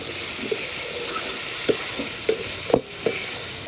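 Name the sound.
stir-frying fried potatoes with mutton in a pot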